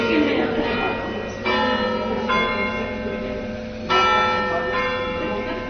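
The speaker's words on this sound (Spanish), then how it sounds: "No sabéis lo que tenéis oyendo las campanas." Church bells in Trujillo ring out continuously, their layered metallic tones overlapping, with fresh strikes swelling the sound every couple of seconds; faint voices murmur beneath.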